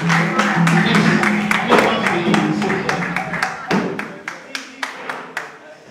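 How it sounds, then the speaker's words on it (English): An audience at a university arts department induction applauds an honoured guest; clapping and crowd noise with voices mixed in at first, then thinning to a few separate, distinct claps. "Please, a round of applause for him."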